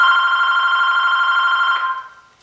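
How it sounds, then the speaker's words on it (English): A telephone rings with a steady electronic bell tone, loud and alone for nearly two seconds before cutting off and fading out. "When I'm painting, I don't take a break when the phone rings."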